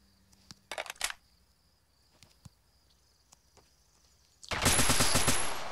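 Assault rifle fire in a survival shooter game, a short burst early on and then a loud sustained volley at the end, with faint clicks and pickup sounds between.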